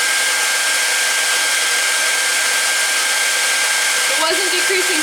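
A hairdryer blows a loud, constant airy roar with a steady whine, aimed at an Arduino PID servo temperature rig; near the end a faint voice and a servo's brief buzzing shift rise under the noise.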